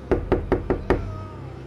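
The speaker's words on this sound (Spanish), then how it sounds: "llamaron a mi puerta" Knocking on a wooden door: five sharp, evenly spaced raps close by, followed by a quiet tail.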